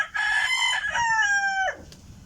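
White Kelso gamefowl rooster crowing in a backyard, one loud, close, drawn-out cock-a-doodle-doo that holds steady and then drops off sharply, with no other sounds around it.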